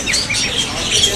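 Dense chirping and tweeting of many birds mixed with clucking chickens at a bird market in Lahore, a busy crowded chorus with faint background talk.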